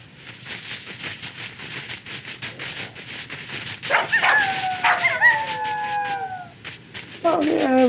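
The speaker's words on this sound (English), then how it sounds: "Hey, I think those are Arctic wolves." Arctic wolves in a video game let out several drawn-out, overlapping howls amid yips and barks, rising in the middle and returning loudly at the end over a faint rhythmic background.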